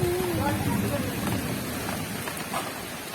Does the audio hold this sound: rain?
yes